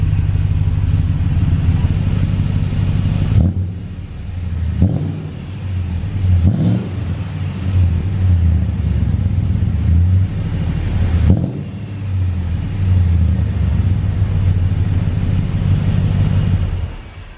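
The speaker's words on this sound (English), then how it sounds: "I'm gonna have to give it a little RPM in a second." A work van fitted with aftermarket headers idles with a deep, steady rumble, then revs up in several short bursts, loud and close, with no one talking.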